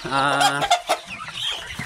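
Laying hens cluck in a chicken coop, a few close, rising calls and short squawks in quick succession filling the brief moment with no talk.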